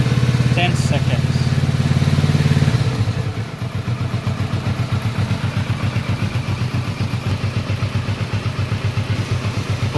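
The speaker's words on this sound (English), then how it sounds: "we will be revving it up to 2000 rpm for about 10 seconds" A car engine is held at about 2000 rpm partway through an engine flush, ahead of an oil filter and oil change. It drones steadily and loudly with a rapid, even pulsing, and after a brief dip it settles into a slightly lower, rhythmic rev.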